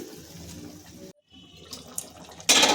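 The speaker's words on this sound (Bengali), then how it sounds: "এবার দিয়ে দিচ্ছি গরম জল" Hot water is poured into a pan of simmering oil and pakoras, making a close, gushing liquid rush that pauses briefly and then surges louder at the end, with no voices.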